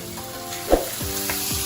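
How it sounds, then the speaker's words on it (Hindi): Green chilies and whole dried chilies hit a pan of frying black lentils (maash daal), giving a steady close sizzle with a sharp burst near the middle and two quick metallic scrape-like swoops near the end. "इस वक्त हम इसमें ये ग्रीन चिली और ये जो है ये साबुत मिर्च शामिल कर देते हैं"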